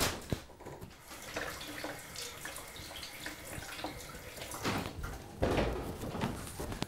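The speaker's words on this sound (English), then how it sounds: "And I'll quickly wash my hands." Hands being washed under a running kitchen tap while fish cakes are prepared at home; a steady, close rush of water runs throughout, with a few louder splashes and knocks near the end and no talking.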